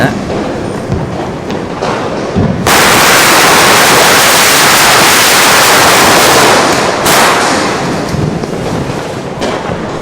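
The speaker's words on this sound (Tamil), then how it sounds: "நீங்களே கேளுங்க இப்போ அது வெடிக்கிறத" A long string of Diwali firecrackers bursts in Chennai in a loud, continuous crackling roar, rising suddenly after a few seconds and dense for several seconds before tapering.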